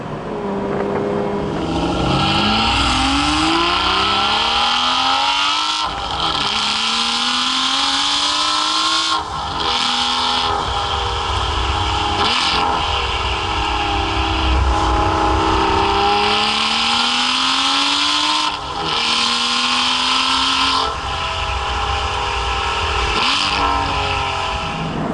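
An Aston Martin V12 Vantage S Roadster engine, loud and close, repeatedly revving up through the gears with rising pitch sweeps, each broken by a brief dip at the shift, continuous and unbroken by talk.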